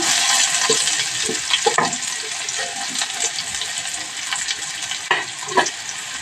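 Garlic slices and onion sizzle in hot oil for a homestyle dal tadka, a steady dense crackle with occasional louder spits and stirring scrapes, fairly close and alone throughout.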